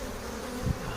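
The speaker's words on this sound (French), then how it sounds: "des abeilles qui battent leur appel pour ramener les copines" Honeybees buzzing at a hive's flight board in an apiary, a dense, close, continuous hum of many bees with a brief louder burst as one passes near.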